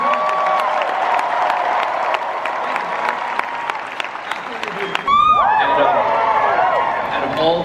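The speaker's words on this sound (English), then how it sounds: "how about a round of applause for series composer Bear McCreary" Hall H audience at San Diego Comic-Con applauds and cheers for series composer Bear McCreary, a dense, steady wash of clapping with a brief voice near the start and a louder surge of cheering halfway through.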